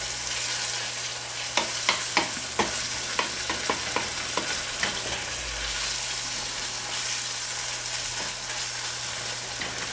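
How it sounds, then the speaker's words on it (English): Ground beef browning with spices in a pan for tacos, a steady broadband sizzle and fry hiss throughout, with a run of sharp spatula scrapes and stirring knocks in the first half. "finish crisping up or browning the burger too"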